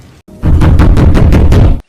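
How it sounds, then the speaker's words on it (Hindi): Someone bangs on an office door in a quick, loud series of about seven evenly spaced knocks, heard close and alone. "कोई लगातार दरवाज़ा खटखटा रहा था।"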